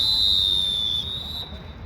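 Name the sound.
referee's whistle during a basketball game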